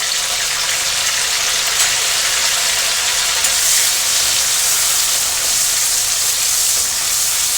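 A masala paste of ginger, tomato and garlic fries in a pan with a loud, constant bright sizzle and no voices over it.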